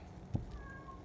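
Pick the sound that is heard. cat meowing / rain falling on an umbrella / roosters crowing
cat meowing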